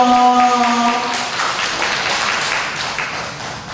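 A church congregation at a Sunday family-church service applauds to cheer on a newly married couple, steady dense clapping following a brief sung or held tone at the start.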